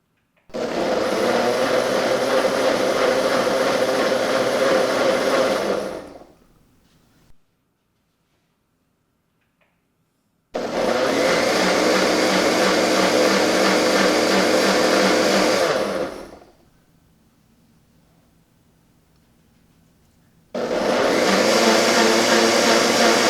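A loud Ninja Foodi Hot/Cold blender heating water runs in long bursts of about six seconds, stopping briefly to near silence between pulses, three runs in all.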